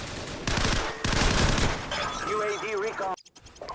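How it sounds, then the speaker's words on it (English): Bursts of rapid gunfire in Call of Duty 4: Modern Warfare crackle loudly for a few seconds alongside other game sounds and tones, then cut off abruptly into near silence. "Now, I hear gunfire"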